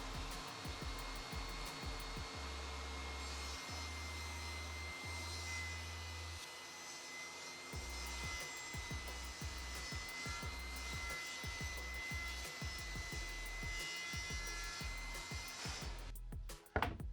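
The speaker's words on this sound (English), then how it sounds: "I set the measurement on the table saw and then I made the cut." A table saw cutting through a sheet of plywood, a loud sustained motor whine with the blade biting and rattling through the wood, running steadily and winding down at the end, with no voices.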